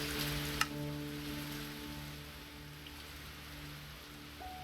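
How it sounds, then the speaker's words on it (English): Steady rain falls in the fantasy game Heavens of Sorcery, a constant close hiss of drops pattering on surfaces with faint tonal game hum beneath and a brief click near the start. "I really need to get rid of this rain so I can do some stuff."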